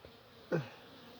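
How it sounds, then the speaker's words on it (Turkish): A crowded honey bee colony during a winter hive check in December gives a single short, fairly faint buzz that rises and falls within a fraction of a second over a quiet background. "Arı kalabalık."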